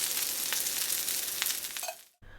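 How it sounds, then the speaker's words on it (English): Kothimbir vadi pieces shallow frying in a little oil on a hot griddle give a steady, close crackling sizzle with a few brighter pops, then cut off abruptly near the end to a quieter hiss. "For shallow frying, arrange a few pieces on a hot griddle and add little oil"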